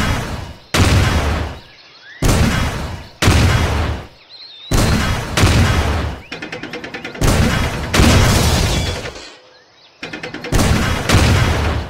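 Loud, booming bomb blasts go off in rapid bursts separated by short pauses in a 2D tank combat video game.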